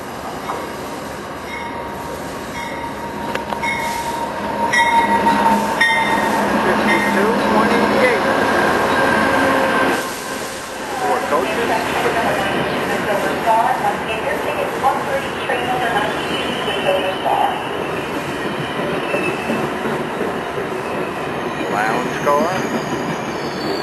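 An Amtrak Silver Star passenger train with a baggage car, dining car and two sleepers rolls past close by, a loud steady rumble with squealing wheels and clacking over rail joints, a voice talking briefly over it.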